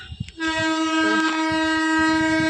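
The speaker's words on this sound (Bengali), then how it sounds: "ট্রেনের আওয়াজ আসছে খুব" A train passes close by in the rainy season, its loud sustained horn blaring steadily over the heavy rumble of rolling wagons.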